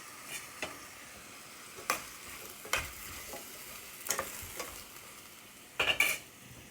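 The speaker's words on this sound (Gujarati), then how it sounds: "નાખી દેવાના બટાકા, પછી નાખી દેવાની ટામેટા" Potatoes and tomatoes tipped into a hot pan for Gujarati-style potato curry, then stirred: scattered spoon scrapes and clatters over a soft sizzle, with a louder cluster of knocks near the end, no voices.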